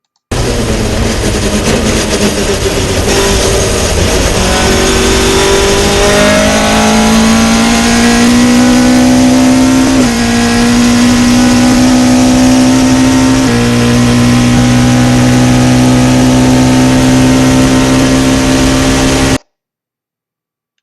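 Caterham 620 CSR sports car lapping the Monza circuit, its engine note loud and continuous from onboard, pitch climbing through gears with sharp shifts, then easing off as the throttle lifts.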